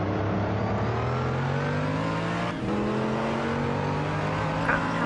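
GT3 race car engines in Assetto Corsa at Monza, two cars side by side, loud high revving with pitch sweeps and a brief downshift as they brake into a chicane, engines droning steadily.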